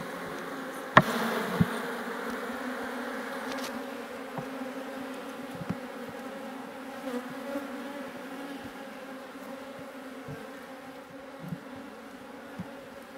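Dense, steady buzzing of a honey bee colony during a beehive inspection outdoors, the hum holding throughout with a couple of sharp knocks near the start and small clicks from handling the frames.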